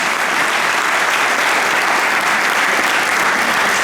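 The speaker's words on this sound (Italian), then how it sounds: "Mi sembrava che stesse partendo anche un applauso" Audience applause before a film screening, a dense, steady roar of many hands clapping at an even level for the whole stretch, with no pauses.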